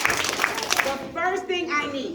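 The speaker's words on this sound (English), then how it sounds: "Parents and girls, if you can hear me clap 3 times." Parents and girls at an elementary Girl Scout ceremony clap three times in unison, with three crisp group claps close by, followed by an adult voice speaking.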